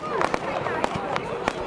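Consumer fireworks at a fireworks show crackle and pop in a rapid irregular series of sharp bangs, fairly close, while people talk over them.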